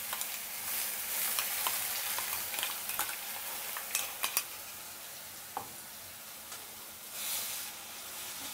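Onion, chili and garlic paste frying in a pan for a Hindi-style bhindi masala, a steady soft sizzle and hiss with occasional stirring clinks and scrapes, fairly quiet and without talking.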